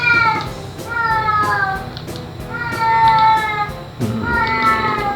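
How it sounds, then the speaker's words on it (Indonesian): A cat meows several times in a row, each call loud and close, with steady room noise and some background sound running underneath. "Ini kucing, ada kucing, sorry ada kucing."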